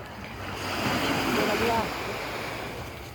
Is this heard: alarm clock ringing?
no